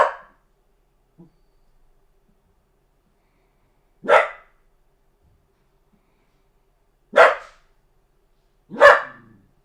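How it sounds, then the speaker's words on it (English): A dog barks in four separate sharp bursts spaced a few seconds apart, fairly close and loud, with near silence between them and no talking. "Oh, this dog's just barking my head off over here."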